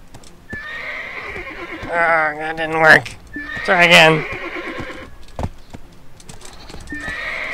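A horse in the video game Black Desert Online neighs twice in loud, close bursts over steady clip-clopping hooves, while someone talks before and between the calls.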